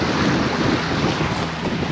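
Wind blowing across Lake Moultrie in South Carolina, heard from a boat, a loud steady rush of wind buffeting with water noise underneath, continuous and without talk.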